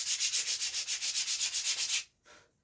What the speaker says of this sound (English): I'm going to use this rubbery sanding block so it kind of fits contours.